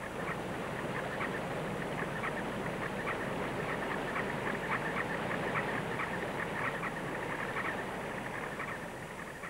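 Harlequin ducks give repeated high, squeaky territorial calls in a loose rhythm at a lake, set against a steady low rumble of rushing water or an engine.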